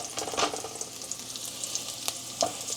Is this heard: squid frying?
yes